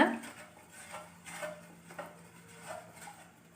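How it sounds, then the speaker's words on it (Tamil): A spoon stirring white sauce made with milk in a pan on the stove, soft scraping and light clinks against the metal in an uneven rhythm, close but faint. "இந்த பாலையும் ஆட் பண்ணிவிட்டு மெதுவாக அப்படியே ஸ்டிர் பண்ணிக்கிட்டே இருங்க"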